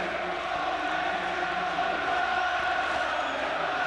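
A packed West Ham football stadium crowd in 1994/95 chanting and roaring together, one continuous loud wash of voices.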